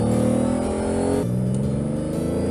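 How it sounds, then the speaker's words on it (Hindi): A sports car engine revs hard under the pressed accelerator during a car-versus-buffalo tug of war, a loud, dense, continuous roar with a tone shift midway as the pitch drops and rises again. "वो फिर से जोर से एक्सीलेटर को दबाया।"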